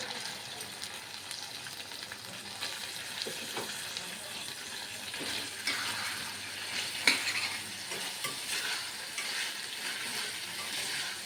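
Mutton pieces fry in oil for a mutton drumstick curry, a steady loud sizzle with occasional scrapes and a sharp clink of a utensil on the pan.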